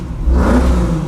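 Engine of a 1956 Ford panel truck revving, heard from inside the cab as a steady, loud low rumble that swells briefly and then holds.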